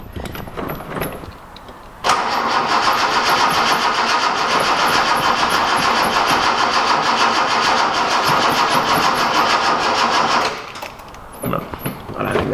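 A Datsun 240C engine cranks and catches under added throttle, a steady loud mechanical roar that holds for about eight seconds, framed by softer clatter and handling noises before and after.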